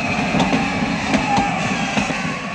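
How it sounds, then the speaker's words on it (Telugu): A train pulls out and gets moving, its steady broadband rumble broken by faint rhythmic clacks and a few sharper knocks, with no clear voices. "అయ్యో, ట్రైన్ స్టార్ట్ అయింది."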